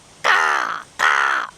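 A voice imitates a crow in Malayalam style, giving two loud, drawn-out nasal caws close to the mic with a short gap between them.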